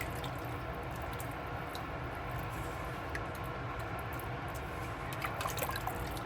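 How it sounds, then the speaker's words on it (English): About two cups of water go into a pot of Guyanese beef cook-up and are stirred in, making a quiet, continuous pouring and sloshing with a few small drips. "I'm adding about 2 cups of water here."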